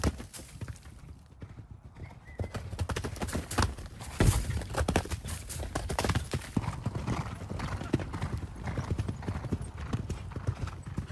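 Horses clip-clop across a stable yard at a racing trainer's, irregular hoof strikes near and clear with occasional neighing and some background talk throughout.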